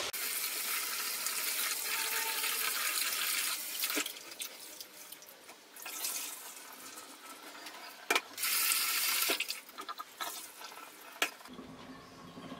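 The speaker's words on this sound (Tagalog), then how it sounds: "So, hugasan muna natin yung glutinous rice." Glutinous rice is washed in water, with a steady rush of running tap water at first, then breaks of quieter sloshing, dripping and stirring, close up.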